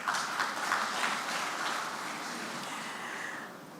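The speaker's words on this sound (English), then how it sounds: "Round of applause for them." Applause from a symposium audience at a Nigerian independence anniversary public lecture, a steady wash of many hands clapping that fades gradually toward the end.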